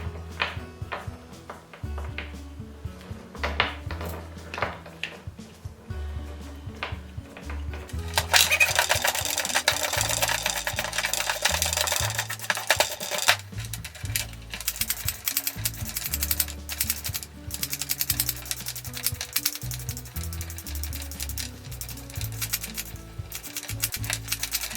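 A worn wire brush scrubs rust from an old Goodell Pratt chain drill in a workshop, giving bursts of scratchy, rapid rasping with a denser stretch of continuous scrubbing partway through, close and moderately quiet.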